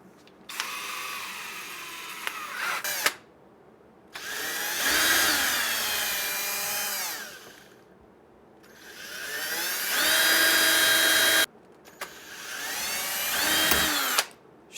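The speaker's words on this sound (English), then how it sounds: "now we just got to drill these holes here to go through" A power drill boring holes through the front and back panels of a wooden gothic arch birdhouse, running in three long, loud bursts with short pauses and revving whine between them.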